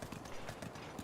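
A horse's hooves clip-clop at a quick, even trot in Zelda: Breath of the Wild, a short run of soft rhythmic thuds at moderate volume.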